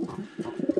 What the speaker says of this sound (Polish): To są też gołąbki fajne.